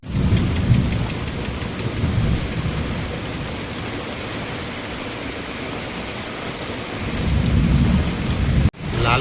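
Steady heavy rain falls outdoors with a dense, even roar, swelling slightly near the start and end, with a brief cut just before the close and no voices.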